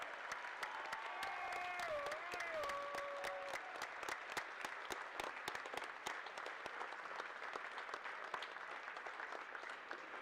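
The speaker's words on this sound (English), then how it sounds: "let's have a nice round of applause for the Cougars from Western Nebraska" Sustained applause from a crowd at a women's college basketball championship, dense steady clapping throughout, with a brief electronic tone near the start.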